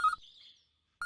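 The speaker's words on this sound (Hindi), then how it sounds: "फोन आ गया सर, चलता हूँ" A phone ringtone chirps in brief electronic bursts, one short ring, a pause, then another starting, fairly clear and close with no talk over it.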